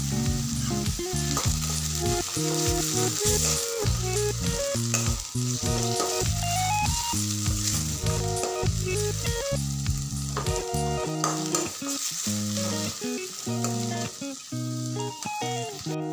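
Garlic and tomato fry in hot oil in a pan for an okra dish, a loud, continuous crackling sizzle with background music playing throughout.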